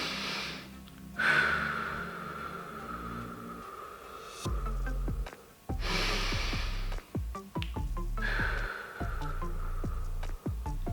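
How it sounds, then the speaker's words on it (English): Slow, audible breaths drawn in and then pushed out through pursed lips during a breathing exercise for anxiety relief, several long airy exhalations heard close. "you're going to breathe out as if you're whistling"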